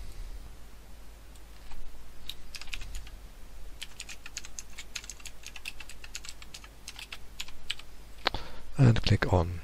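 Typing on a computer keyboard to enter a file name when saving: quick, irregular key clicks close by, with a louder burst of keystrokes near the end and no voice.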